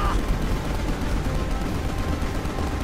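Continuous gunfire from Prompto's weapon in the Final Fantasy XV Episode Prompto game forms a dense, rapid rattle that stays loud and steady throughout.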